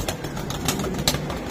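Racing pigeons coo and call nearby, soft throaty bursts over a busy background with a few brief flutters, at moderate loudness and without talking.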